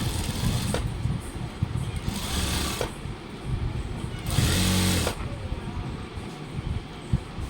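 A sewing machine stitches the side seam of a school uniform pant in several short bursts of rapid mechanical whirring, close by and separated by quieter handling pauses.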